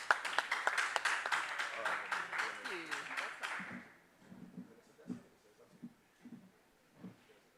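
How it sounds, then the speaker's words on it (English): Audience applause at a live Bitcoin conference stage event in Cape Town as a woman is invited up, a burst of clapping that fades out after a few seconds, leaving quiet room sounds and a few soft knocks. "Can I please have a round of applause for Melanie?"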